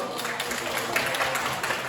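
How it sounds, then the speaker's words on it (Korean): Group of participants at a team-building recreation event clapping together in a steady, fairly loud wash of applause with a murmur of voices underneath. "박수 주세요."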